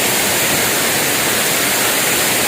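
Pancawulu waterfall on Mount Gede pours in a loud, continuous broadband roar with no pauses, steady and close throughout.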